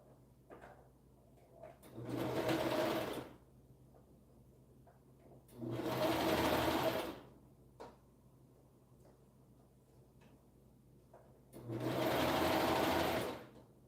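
Sewing machine stitching a side seam, three separate bursts of fast whirring needle action, each a second or so long, separated by quiet pauses with faint handling noises.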